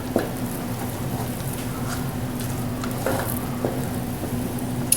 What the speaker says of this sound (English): Oh, this cheese is just sizzling down there.